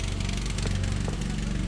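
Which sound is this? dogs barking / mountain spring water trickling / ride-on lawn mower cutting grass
ride-on lawn mower cutting grass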